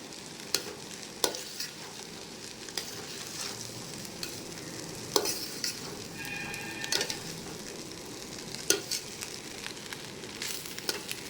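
Chicken fried rice with soy sauce is stirred in a pan over low heat, giving a steady soft sizzle broken by sharp, irregular scrapes and clacks of the spatula, close by and with no talking.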